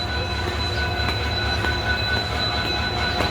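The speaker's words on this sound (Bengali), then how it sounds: "দেখো ট্রেন এখানে দাঁড়াই গেছে।" A stopped train at Ambassa station in Tripura holds a loud, steady rumble with a high tonal whine and faint squealing, an unbroken rail hum with no voices.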